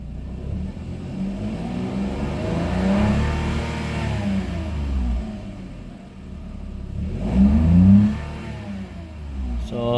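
A Toyota Wigo with a misfiring, underpowered engine is revved twice while parked, each rev rising from idle to a droning peak near 4,000 rpm and falling back, close and loud.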